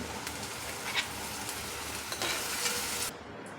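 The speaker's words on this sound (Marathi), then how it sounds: "कांदा आहे तो मस्त असा परतून झालेला आहे तर भाजी घालून घेते" A wild monsoon vegetable goes into a pan of sautéed onion and is stirred, giving a continuous close frying hiss with light scraping, then it drops away abruptly at the end.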